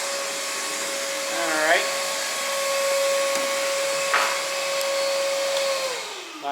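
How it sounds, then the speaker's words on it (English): A Milwaukee M18 6 gallon wet dry vacuum runs with a loud, steady motor whine and airflow hiss, close up, then spins down near the end; someone briefly speaks over it. "Not going to bore you with too much vacuuming."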